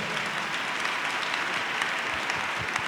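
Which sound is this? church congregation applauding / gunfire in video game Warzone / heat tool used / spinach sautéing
church congregation applauding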